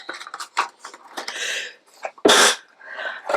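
A single loud, sharp sneeze bursts out after scattered small rustling and mouth sounds, close to the listener.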